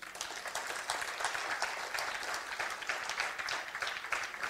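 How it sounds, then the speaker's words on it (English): Steady applause from an audience at an art competition award ceremony for children, dense even clapping that holds at a constant level throughout, with no talking over it. "A big round of applause."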